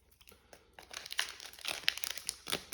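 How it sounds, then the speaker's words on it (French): Crinkly foil of a Pokémon card booster pack being torn and pulled open by hand, close-up rustling and crackling that builds from quiet to sharp bursts, with no talk. "Les boosters, ils ont du mal à s'ouvrir."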